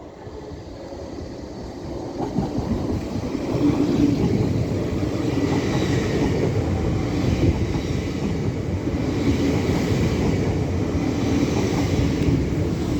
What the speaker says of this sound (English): And now pulling in behind me is a LNER Azuma service from Edinburgh